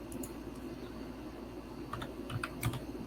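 Steady clatter of keys on a computer keyboard, continuous quick keystrokes with a few louder taps, close and alone.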